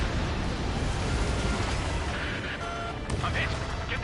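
A missile launch and explosion in the combat flight game Ace Combat 7, a dense, continuous roar and rumble that stays loud throughout, with faint radio-style voice chatter beneath it.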